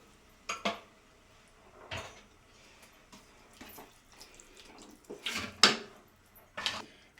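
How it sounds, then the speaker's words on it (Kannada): Water is poured into a pan of potato and mushroom gravy, heard as scattered splashes, pours and clinks of a metal pan and utensil, separated by quiet gaps. "ನೀರು ನಿಮಗೆ ಯಾವ ಕನ್ಸಿಸ್ಟೆನ್ಸಿಲಿ ಬೇಕು ನೋಡಿಕೊಂಡು ಹಾಕ್ಕೊಳ್ಳಿ."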